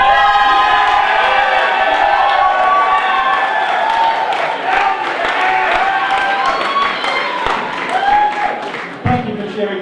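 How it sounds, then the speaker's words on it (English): Audience at a comedy review show at the Edinburgh Fringe cheering, whooping and clapping loudly throughout, a dense crowd roar with bright shouts that tapers slightly toward the end. "Thank you for cheering there"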